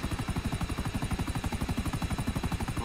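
A helicopter in the game GTA V, its rotor blades chopping in a fast, steady rhythmic thump that holds at a constant level for the whole stretch, with no talk over it.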